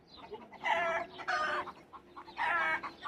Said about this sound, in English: Cockerel with his